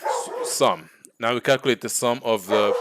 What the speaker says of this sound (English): Oh, that's a dog barking.